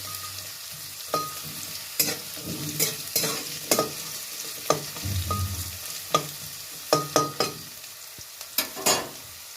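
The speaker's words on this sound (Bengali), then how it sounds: "গাজরটা ভাজা হয়ে যাক" Carrots frying in a pan, stirred with sharp intermittent scrapes and clacks over a soft, quiet sizzle, close by.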